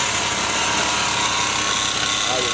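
A 2012 Kia Mohave engine starts and runs with an abnormal scraping noise, a loud, steady broadband roar close by with no pauses throughout.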